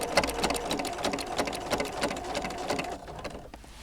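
A sewing machine stitches steadily down the middle of a gnome potholder and across the beard, giving a rapid, even mechanical whir with a pulsing needle rhythm that carries on for several seconds before easing off near the end.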